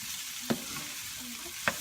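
Cauliflower pieces sizzle steadily in a frying pan, with two sharp scrapes of a utensil stirring them a second apart over the constant hiss.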